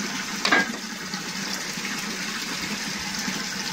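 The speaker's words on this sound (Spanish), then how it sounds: "el sonido de tu chorro no va a dejar oír lo que vas a hablar" A steady stream of water gushes continuously from a tap, like a kitchen faucet running, loud and even throughout with a brief splashy surge near the start.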